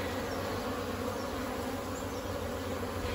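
Bees hum at the newest hive in an Australian backyard apiary, a soft, even, continuous buzz heard from a short distance with no talking.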